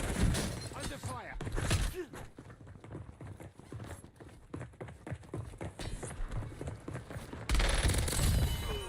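Gunfire in Black Ops Royale cracks in rapid, dense bursts at close range, with a louder burst at the end. A voice talks over it.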